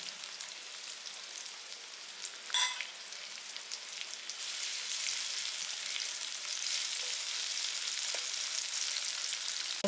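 Sliced onion fries in oil with fennel seeds, a soft steady hiss that swells after a few seconds, with a brief scrape partway through, quiet and close.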